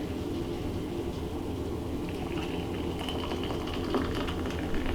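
Freshly brewed coffee poured into a cup, a steady continuous liquid rush with faint gurgling throughout, close and moderately loud.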